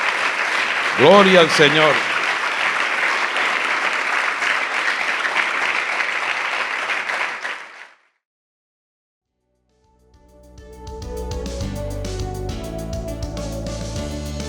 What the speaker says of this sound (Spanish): Pues dale un aplauso al Señor